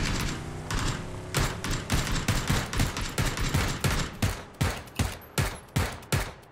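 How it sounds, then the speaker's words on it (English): Rapid bursts of gunfire in the PC battle-royale game PUBG: loud, close volleys of shots that settle into a steady run of single cracks toward the end, with no talking. "I'm going to open fire."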